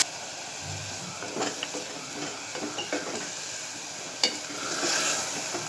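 Mutton mince frying with softened onions in a pan, a low steady sizzle broken by a few scraping stirs and one sharp tap of the utensil, with no voices.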